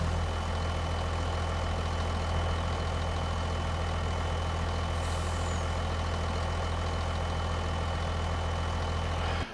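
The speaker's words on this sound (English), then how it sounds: "A tractor trailer." A tractor-trailer truck idles steadily in Farming Simulator 25, a constant low diesel rumble with a faint hiss rising briefly midway, unbroken for nearly ten seconds.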